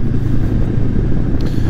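Honda NX500 motorcycle leaning through tight curves on a dry road, giving a steady low engine rumble with constant wind roar, loud and continuous with no breaks.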